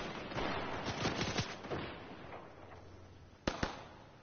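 Scattered gunfire and distant shots in a Fortnite match, a busy run of muffled pops early on, then two sharp, louder cracks near the end.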